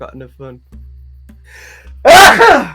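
A single loud, sharp sneeze bursts out near the end, following a few short, quiet spoken words during a tabletop Dungeons & Dragons session.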